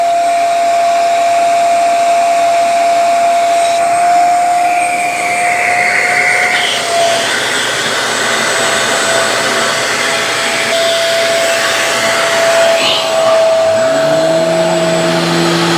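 A Shark Carpet Xpert Hair Pro EX30 carpet cleaner runs in StainStriker mode, giving a loud, steady motor whine and airy rush that holds throughout, with a brief pitch shift near the end.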